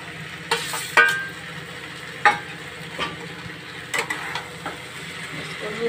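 Potato, broccoli and peas fry in a masala in a pan, a continuous sizzle under several sharp spoon knocks and scrapes as the vegetables are stirred, close and fairly loud.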